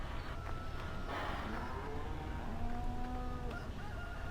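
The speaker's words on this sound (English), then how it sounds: "these are the chickens there" Chickens in the Farming Simulator 15 video game, on the Willow Tree Farm map, clucking and calling in a steady stream over a constant game ambience, fairly close and moderately loud.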